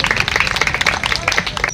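A short burst of clapping from a school quiz competition audience greets a correct answer, quick uneven claps close by and fairly loud, with no voices over them.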